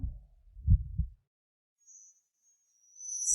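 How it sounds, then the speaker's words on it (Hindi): A heartbeat sound effect gives one deep, muffled lub-dub double thump, then falls quiet except for a faint high tone. "दिल की धड़कन तेज हो गई।"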